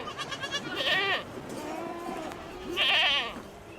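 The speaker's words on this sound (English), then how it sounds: "Here, Gert Titis shepherds a flock of almost 400 sheep and goats." Goats and sheep from a flock of nearly 400 in arid red-dune farmland give two clear, wavering bleats, close by and alone against a quiet background.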